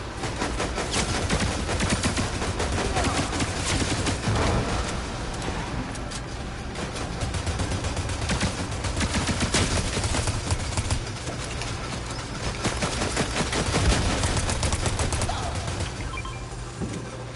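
Gunfire in the video game Fortnite crackles in fast, repeated bursts, with steady rattling shots and scattered impacts running continuously at moderate loudness.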